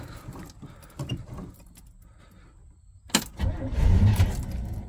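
A camper's engine is cranked to start it, with faint knocks and clatter followed by a quiet gap, then a sudden burst and rough rumbling that turns over close by.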